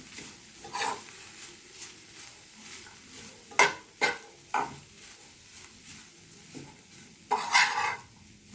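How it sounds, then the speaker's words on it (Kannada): Grated coconut frying in a pan over a medium flame for a masala roti, with soft sizzling and several sharp scraping strokes of a spatula stirring it, loud and close. "ತೆಂಗಿನಕಾಯಿನೂ ಸ್ವಲ್ಪ ಫ್ರೈ ಮಾಡಿ"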